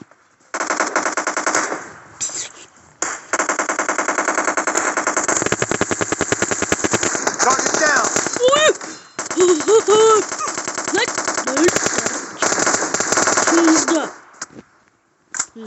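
Loud, continuous automatic gunfire from a video game runs in long rapid bursts with short gaps, while a player's voice can be heard over it.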